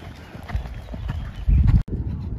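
Horse cantering during show-jumping training on a line with jumps, its hoofbeats thudding in a steady rolling rhythm close by, with a heavier burst of hoof impacts near the end.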